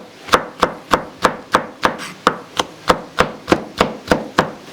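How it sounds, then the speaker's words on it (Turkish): A knife thinly slices red pepper on a cutting board, about fourteen crisp, evenly spaced chops in a brisk, steady rhythm, heard up close with no talking. "Ve böyle ince ince doğrayacağız."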